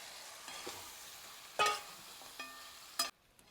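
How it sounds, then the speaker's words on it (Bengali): Meat stirred into a pan with whisked yogurt and frying, a steady sizzling hiss broken by a few sharp clanks of a utensil against the pan. "আর এবারে দিয়ে দেবো মাংসটা।"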